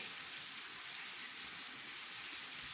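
Steady rain pouring down, an even, continuous hiss of falling drops on surfaces, close and unbroken with no voices.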